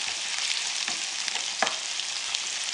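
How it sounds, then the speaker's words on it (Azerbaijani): Onion frying in oil in a pan gives a steady, dense sizzle throughout, with a few sharper crackles and stirring scrapes, close and fairly loud, with no voices. "Biraz da qızardıqdan sonra soğanı tavanın içərisindən başqa bir boşqabın içərisinə qoyuram."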